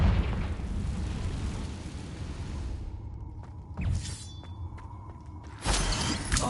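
Confringo spell blast in a Hogwarts video game, with a roaring burst that cuts off, followed by a crackling impact, sparkling shimmer, and another loud explosive hit near the end.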